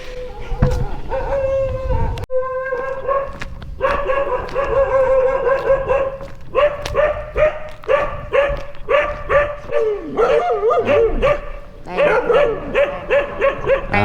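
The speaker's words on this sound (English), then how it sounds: "And there go the dogs again." Street dogs in Thailand barking and yelping in repeated high, insistent bursts, close and loud, several animals overlapping almost without pause.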